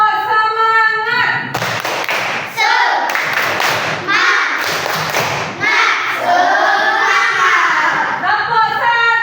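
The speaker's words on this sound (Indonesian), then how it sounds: "Tepuk semangat." Classroom of children doing a rhythmic spirit clap routine, with bursts of claps and thumps in quick patterns between stretches of children's voices and chanting.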